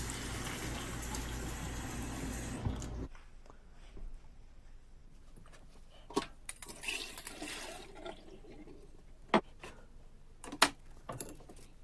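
Water runs and splashes loudly for a few seconds while peas are rinsed, then gives way to quieter scattered clinks, sloshes and rattles of peas in a container.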